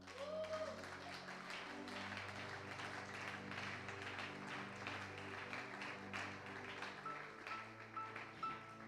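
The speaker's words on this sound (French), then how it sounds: "Est-ce qu'on peut applaudir le Seigneur?" Church congregation applauding the Lord during a Bible study campaign service, steady clapping mixed with music and voices running the whole time at moderate level.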